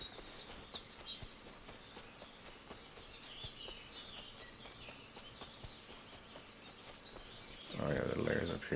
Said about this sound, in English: The sounds, the birds chirping